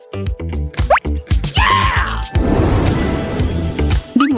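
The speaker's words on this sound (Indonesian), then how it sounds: "Dimulai dengan tetesan kecil." Small drips of soda and chocolate liquid plop and splash while food is layered and shaken in a cooking hack, a quick run of close, distinct drops followed by a louder, sustained pouring splash.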